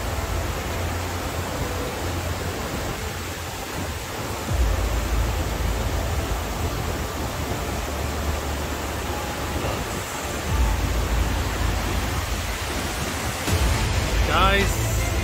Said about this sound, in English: ultimate waterfall. What a height it is.